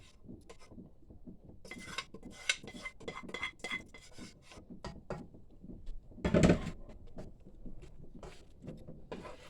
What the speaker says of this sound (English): we're just going to mix that cheesy goodness together with that macaroni